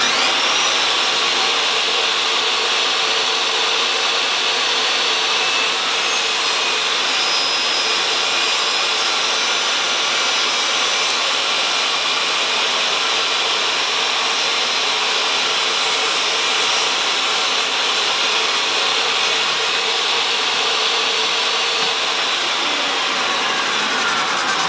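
A SawStop jobsite table saw runs with dust collection hooked to its overhead guard by a 27mm hose, giving a loud, steady whining roar that holds unbroken from start to finish.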